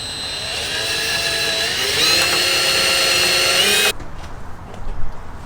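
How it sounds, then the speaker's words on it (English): Power drill pre-drilling a hole in a van floor, whining loud and steady for about four seconds before stopping abruptly, followed by faint handling noises. "I'm gonna pre-drill."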